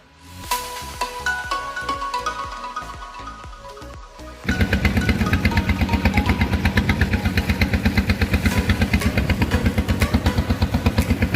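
A pompong, a small wooden motorboat in Riau, Indonesia, sits with its engine idling, first a quieter uneven clatter, then a loud, steady, rapid chugging thump that runs on evenly to the end.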